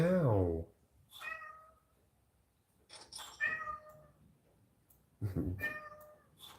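A cat meows repeatedly at close range, with a long drawn-out meow at the start and several shorter meows spread out after pauses, alone without talk.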